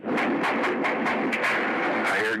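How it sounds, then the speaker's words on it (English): A rapid string of phone-filtered gunshots crackles through a recorded telephone call made from inside the Mount Carmel compound near Waco during the ATF raid, dense and continuous. "I hear gunfire."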